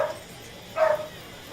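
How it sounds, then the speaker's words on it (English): A dog gives two short yips or barks, the second louder, close by with a faint hum behind. "That's my dog, man."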